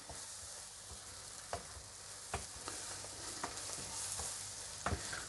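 Food frying in a pan is stirred and mixed, with scraping strokes every second or so over a steady, close sizzle and no talking.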